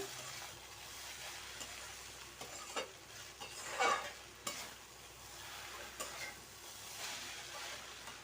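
Chowmein tossed with Maggi masala in a pan, a spatula stirring and scraping in soft, irregular strokes over a faint background sizzle, quiet and close.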